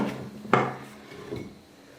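Pathiri dough pressed in a wooden press gives one sharp woody knock followed by fainter creaks and a softer thud, close up and quiet, with no talking.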